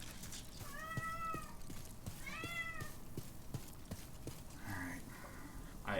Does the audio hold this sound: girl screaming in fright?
no